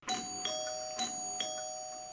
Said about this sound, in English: you hear the doorbells ring